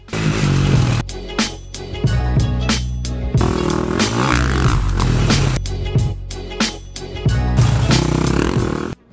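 A motorcycle ridden at a riding school roars in repeated bursts as the rider brakes through potholes and sets up for a turn. The engine is close and loud, revving up, cutting back, then surging again in an uneven rhythm.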